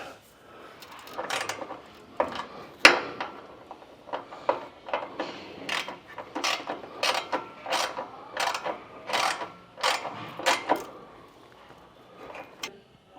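A socket wrench ratchets in quick bursts of clicks while tightening the bolts on Westin Grate Step nerf bar brackets on a 2023 truck, with close, sharp strokes repeating steadily and a few louder knocks among them.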